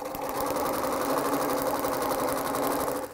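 A sewing machine runs steadily at close range, a fast continuous whirring rattle of stitching with no pauses and no voices.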